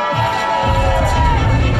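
A crowd at a live comedy show roars and cheers loudly and steadily, a dense wash of shouting and applause that fills the space.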